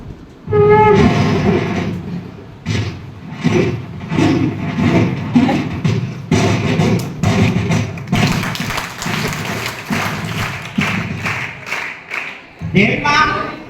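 A mimicry artist voices an approaching train at a live seminar, a loud run of rhythmic chuffing bursts building steadily over about thirteen seconds, with audience applause and clapping mixed in near the end.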